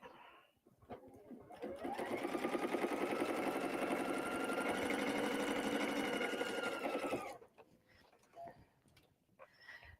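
Sewing machine stitching quilt pieces for single-layer piecework, a steady loud whir of rapid needle strokes running for about five seconds, starting and stopping cleanly with quieter handling around it.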